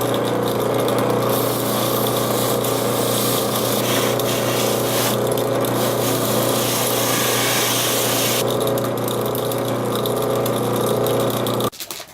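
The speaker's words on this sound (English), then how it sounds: "now is a good opportunity to go to the wire wheel and clean up this area" A wire wheel spins steadily and loud against the skin of a bird being prepared for taxidermy, a continuous abrasive whir that holds for about twelve seconds before cutting off.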